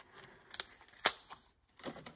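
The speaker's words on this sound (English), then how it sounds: "And then you just give that a snip with your scissors." Scissors snipping through paper while making fringed ghost tags, a few sharp crisp cuts heard close and alone with quiet pauses between them.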